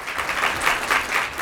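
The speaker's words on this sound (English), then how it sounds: "let's give them a round of applause" A luncheon audience at a Fort Worth teaching awards event gives a short burst of applause for program partners, brisk scattered clapping from a roomful of people.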